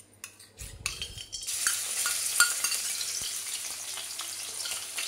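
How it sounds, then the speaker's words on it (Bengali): Chicken pieces with salt, turmeric, chilli powder and ginger-garlic drop into hot white oil in a pan with a clatter, then a loud, steady sizzle continues close by with occasional stirring scrapes. "চিকেনের টুকরোটাও ভাজা ভাজা করে নেব।"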